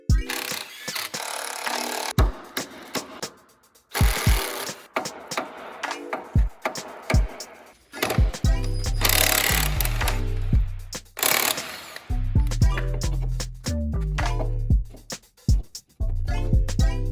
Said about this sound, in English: Alright, so we're undoing this upper ball joint.